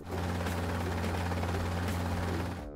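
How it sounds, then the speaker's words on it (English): A helicopter sound effect gives a continuous loud, close rotor chop and engine roar that stays even throughout before cutting off abruptly at the end. "Helicopter."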